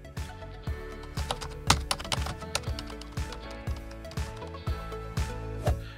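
Rapid computer keyboard typing with sharp key and button clicks in an irregular rhythm, close and fairly loud, with no voices.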